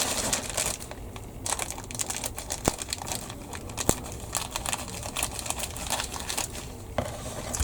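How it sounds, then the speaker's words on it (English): Scissors cut through plastic model kit sprues in a dense run of crisp snips and crackles, with a few sharper clicks standing out, close and moderately quiet with no one talking. "I'm only using a pair of scissors because I had them to hand."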